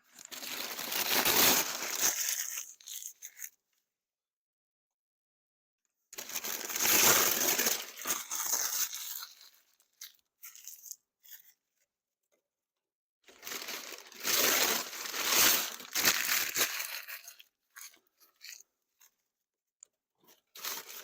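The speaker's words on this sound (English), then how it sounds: "Crunch up a bunch of paper," Loose sheets of paper are crunched and crumpled by hand to build a fire at a camp near Moosehead Lake in Maine, in three long, close, crackling bursts separated by silent pauses.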